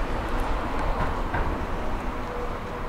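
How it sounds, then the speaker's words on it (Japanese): A Meitetsu train rolls into a station platform, a steady broadband rumble of wheels and motors holding at an even, fairly loud level throughout, with no voices over it. "まもなく6番線に電車が参ります。"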